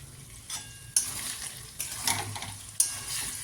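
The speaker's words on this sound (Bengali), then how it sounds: "ভালো করে মশলাটা কষিয়ে নিতে হবে। এখানে দিয়ে দিলাম লঙ্কার গুঁড়ো।" Spice masala with chilli powder frying in a pan, a quiet steady sizzle broken by a few sharp scraping stirs at intervals.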